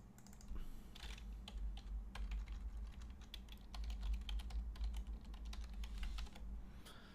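A password goes in on a computer keyboard in scattered bursts of soft, close key taps over a low, constant hum, with no voices.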